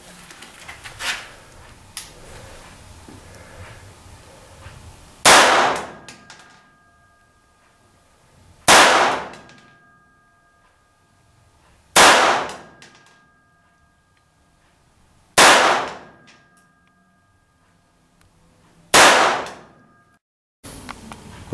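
Five sharp gunshots ring out on an outdoor shooting range, evenly spaced about three to four seconds apart, each loud and close with a brief decaying echo, separated by near silence.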